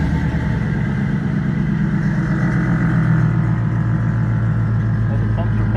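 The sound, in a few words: air ride suspension pumps running on 1951 Chevy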